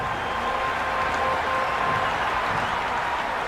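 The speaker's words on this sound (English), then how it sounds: "the crowd have joined the party. It's pretty noisy at the ground." A stadium crowd in the Cricket 26 video game during a T20 match roars and applauds continuously, a dense, loud wash of noise with no breaks.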